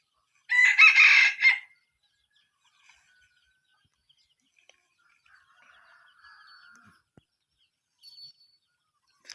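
A single rooster crow rings out near the start, followed by faint scattered clucks from a mother hen with chicks and quiet rustling in an otherwise calm, windless morning outdoor setting with gamecocks.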